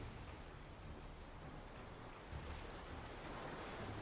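Ocean waves wash over Antarctic ice in a steady, quiet rushing surge that holds without a break and swells a little toward the end, with no voices present.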